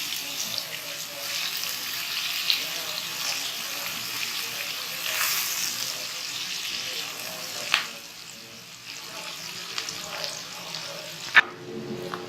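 Onions frying over a medium flame for egg biryani, a steady soft sizzle with faint clinks and water-like hiss, close and continuous with a couple of brief knocks.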